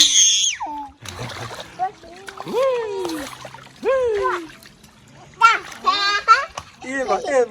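Water splashes around a young child in a bath, with bursts of splatter coming and going beneath an adult's cheerful talk and a voice.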